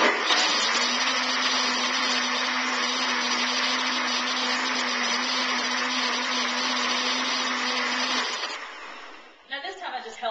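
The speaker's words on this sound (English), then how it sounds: "So I'm going to run the blender again." Countertop blender whirring steadily at full power while blending raw chipotle chili, a loud continuous motor drone that cuts off abruptly near the end, followed by a few faint clatters.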